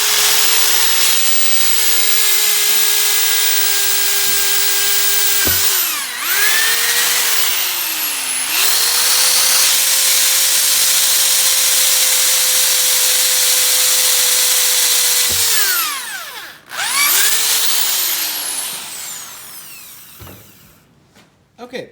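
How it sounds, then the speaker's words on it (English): Hand drill boring holes through a forged hunting knife blade clamped in a vise, a steady high whining drone that pauses and restarts twice with pitch swoops as the bit spins down and back up, loud and close. "way to actually drill my holes is to just put it in the vise one at a time. Use a hand drill."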